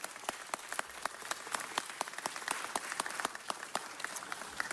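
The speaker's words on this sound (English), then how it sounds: "How about a big round of applause for Cesar Medrano?" Audience applause during a city council meeting, a steady wash of many hands clapping with sharp individual claps standing out, moderately distant and unbroken by talk.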